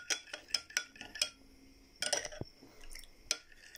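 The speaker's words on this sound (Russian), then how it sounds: "Перемешиваем нашу жидкость." A spoon stirring a drink mixture in a glass: quick bright clinks against the glass in an uneven run, then a pause and a few more taps and scrapes, close by and fairly quiet.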